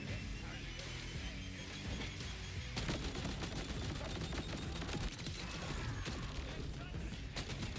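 Rapid gunfire from weapons in the video game Borderlands 4, a dense, continuous spray of shots that intensifies partway through and continues steadily, with faint talk in the background.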